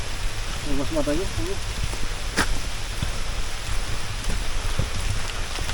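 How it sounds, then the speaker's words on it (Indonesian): Steady rain pattering on a forested mountain hiking trail on Gunung Kembang, a constant hiss of drops close around, with a few brief rustles and a short voice fragment mixed in. "Wah, hujan pak, kita pakai jas hujan nih."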